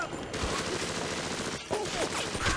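Video game gunfire from a shootout in Bioshock, with dense rapid shots throughout, a brief break near the middle, then more firing and a few raised game sounds over it.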